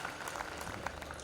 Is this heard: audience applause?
yes